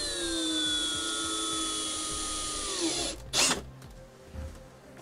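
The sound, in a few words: power drill drilling a 5/16 hole in car dashboard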